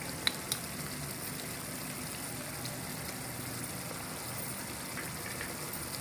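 Spices such as turmeric, red chilli, coriander and cumin powder sizzle in oil with ginger-garlic and onion paste for smoked liver curry, a steady, even hiss throughout with a couple of faint clicks.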